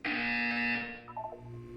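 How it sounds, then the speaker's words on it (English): A loud, steady electronic buzzer sounds in Portal 2 for about a second, then cuts off and gives way to softer short tones. "You will hear a buzzer."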